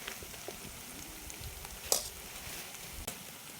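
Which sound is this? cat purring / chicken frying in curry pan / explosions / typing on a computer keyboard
chicken frying in curry pan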